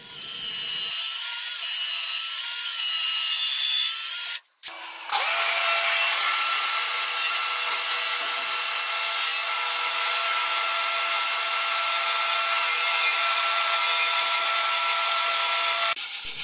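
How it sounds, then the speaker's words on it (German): A power drill with an extra-long 8 mm bit bores a cable hole through ginkgo wood, a loud steady whine that cuts out briefly, then resumes at an even, high-pitched drone. "Die restliche Bohrung fürs Kabel erfolgt wieder mit dem extra langen 8 mm Bohrer."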